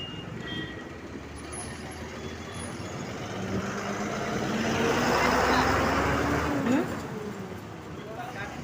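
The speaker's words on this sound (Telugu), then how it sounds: "బస్సు వస్తుంది" A bus pulls in on a roadside during a trip. Its engine rumble swells, peaks around the middle, then eases with a brief hiss-like burst, over a steady traffic din and nearby voices.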